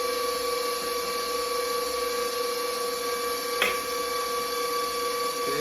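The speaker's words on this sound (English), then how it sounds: "I'm going to let it mix a couple more minutes, and then I'm going to stop the mixer" A stand mixer kneads cinnamon roll dough for caramel pecan rolls with a steady, even motor hum and no talking. A single soft click sounds partway through.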